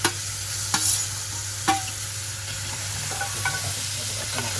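Fish masala made with mori (baby shark) sizzles softly in a pan while it is stirred and sautéed, with a few sharp scrapes of the spoon over a quiet, steady fry.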